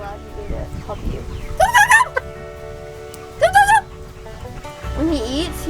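Turkey gobbling on a farm, three distinct warbling gobble bursts spaced a couple of seconds apart, fairly close, over low background noise.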